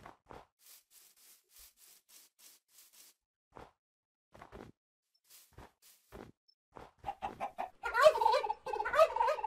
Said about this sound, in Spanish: Un pavo.